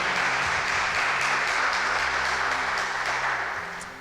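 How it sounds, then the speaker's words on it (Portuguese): Steady congregational applause in a church service, a dense wash of clapping that holds evenly and fades slightly at the end. "Uma salva de palmas para o Senhor"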